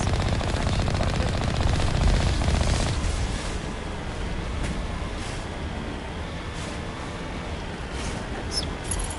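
Heavy rocket and cannon fire from the Mako armored vehicle in the Mass Effect video game, a loud sustained barrage that builds in the first seconds, then continues as a dense, steady rumble with sharp bursts.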